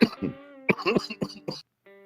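Several sharp coughs and throat-clearing bursts from one nearby person in a quick irregular run, followed by a short tonal vocal tail.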